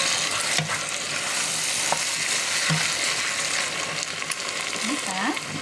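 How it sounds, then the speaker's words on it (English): Diced tomatoes stirred into frying northern-style chili in a pan, a steady broadband sizzle with scraping stir strokes and a few soft knocks, close and continuous, with faint voice traces near the end. "And then I'm going to add my diced tomatoes. Throw that right in there. Mix that around."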